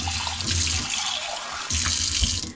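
Water runs steadily from a kitchen tap into a sink, a close, continuous splashing rush that briefly drops and then resumes.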